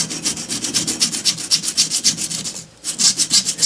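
Emery cloth rubbing back and forth on a small metal steam engine part, in quick regular strokes of about five a second. The scraping is close and steady, with one short pause near the end.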